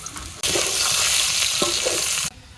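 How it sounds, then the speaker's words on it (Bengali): Chopped onion hits hot oil with frying potatoes for a village curry, setting off a loud burst of sizzling that lasts about two seconds and then drops away abruptly, with a few stirring scrapes. "আলুর লাগে পিঁয়াজটা টালিয়ে নিলাম"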